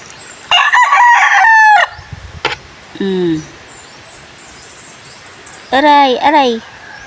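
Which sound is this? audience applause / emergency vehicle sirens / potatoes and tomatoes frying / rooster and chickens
rooster and chickens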